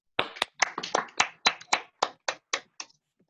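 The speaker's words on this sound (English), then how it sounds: "Please join me in giving Dr. Ward another round of applause" Sparse clapping from only a few people, about a dozen distinct sharp claps in an uneven rhythm that thin out and stop, close and fairly quiet.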